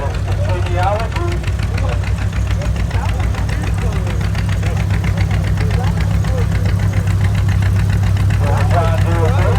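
An antique Farmall 200 tractor engine idles and chugs loudly and close by during a tractor parade, a continuous low knocking rumble with a voice announcing faintly over it.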